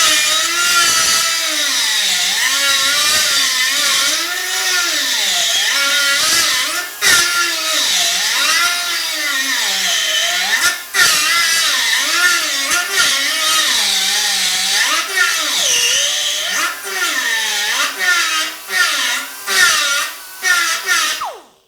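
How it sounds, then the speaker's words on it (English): A small sanding disc whines against a metal waterjet impeller blade, its pitch rising and dipping as pressure changes, loud and close with brief pauses near the end. "I'll let the little sanding disc take the rest of it off of there"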